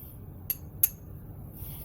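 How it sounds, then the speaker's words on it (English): Hammer striking a chisel to knock a part of a CAA micro conversion kit brass catcher into place: two sharp, quiet metallic taps about a third of a second apart, over a low steady background. "You may have to take a chisel and a hammer like so"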